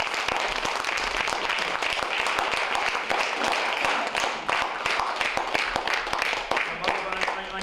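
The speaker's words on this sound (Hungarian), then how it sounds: "Egy nagy tapsot hagy kérjek nekik." Crowd applause at a senior citizens' day event in Cigánd, Hungary: dense, sustained clapping from an audience filling the whole stretch, loud and steady with scattered sharper claps near the end.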